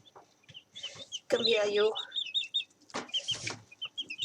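Farm chickens cluck and squawk close by, with a loud flurry of agitated calls midway, while a person speaks over them as the birds are handled for marking with paint.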